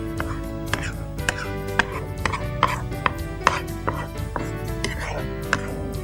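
Eggs for egg bhurji are scrambled in a pan with a spatula, giving rapid, irregular taps and scrapes of metal against the pan over a steady tonal background.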